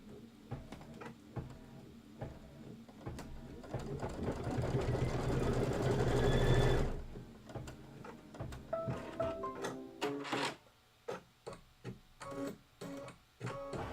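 An embroidery sewing machine stitches a Kimberbell design with a steady mechanical whir that builds and then stops, followed by irregular clicks and taps of the machine and handling.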